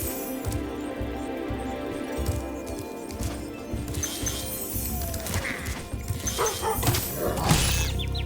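Herding dogs in Spyro Reignited Trilogy barking and yipping repeatedly, loud and close over busy game music and effects, with scattered crashes.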